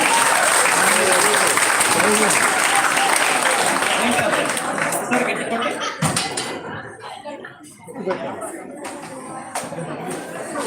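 A large crowd at an NDRF gas cylinder fire safety training session breaks into loud, sustained applause that fills the whole stretch, tapering somewhat toward the end with scattered claps and murmuring.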